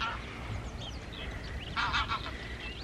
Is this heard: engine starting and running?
no